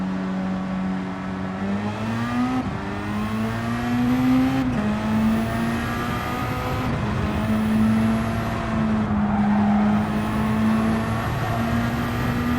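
A race car engine roars in Gran Turismo 7 during a time trial lap, loud and continuous, rising in pitch through each gear and dropping sharply at the upshifts, with no talking.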